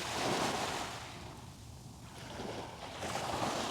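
Sea waves washing up a beach over a drawing in the sand, a broad continuous rush of surf that swells, eases, then surges again, with some wind noise on the microphone.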